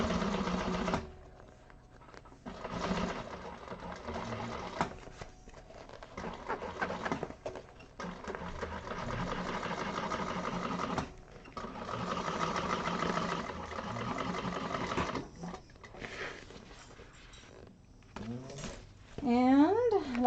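A sewing machine stitching a handbag, running in steady rapid bursts with short pauses between them, moderately loud and close, while someone talks through much of it.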